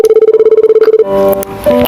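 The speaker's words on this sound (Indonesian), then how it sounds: "Aku coba telepon aja kali ya." A telephone ringback tone sounds as a rapid, steady series of short, loud beeps for about a second. A recorded voice message then follows.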